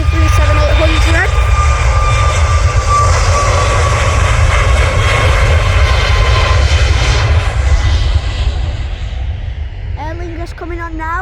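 A Boeing 737 MAX jet roars loudly and steadily at Manchester Airport on a hot day, a dense engine rumble with a whining tone that eases slightly toward the end.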